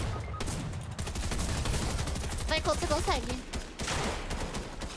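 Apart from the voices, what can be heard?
gunfire in the video game Fortnite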